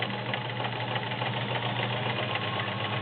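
A metal Kenmore 1802 sewing machine with a wide 5mm zigzag stitch running continuously, a steady mechanical whir and rapid rhythmic clatter at an even speed, close and unbroken.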